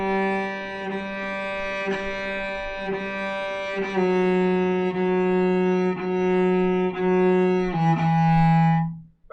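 A bowed string instrument plays a sustained tone with repeated bow changes, each leaving a small bump or scratch where the note shifts unevenly.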